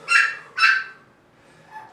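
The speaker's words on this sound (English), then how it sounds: "if you hear my doggy barking in the background" A dog barks twice in quick succession, fairly close and loud, in a room where someone is doing a resistance-band leg workout, followed by a faint whine.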